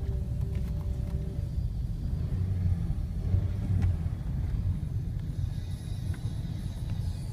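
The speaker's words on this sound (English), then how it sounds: "You can hear the car the way it sounds." A 2002 Toyota Celica GT idles steadily up close, a constant low engine rumble with a faint whine and no talking.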